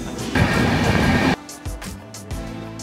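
A superfast train rushes past a halted passenger train with a loud, dense roar. The roar cuts off abruptly, leaving a few rhythmic wheel clacks and thumps.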